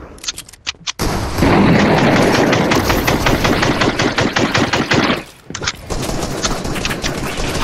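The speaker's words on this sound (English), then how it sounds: "Dude, I'm shooting at him." Rapid automatic gunfire from a shooting video game, likely Fortnite, bursting in sustained volleys with a brief pause before resuming, loud and close with no talk over it.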